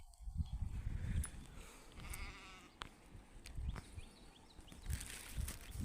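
Goats bleat faintly at a distance while grazing over outdoor rustling and shuffling, a few scattered calls amid low rumbling background noise.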